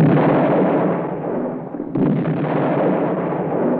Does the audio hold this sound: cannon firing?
yes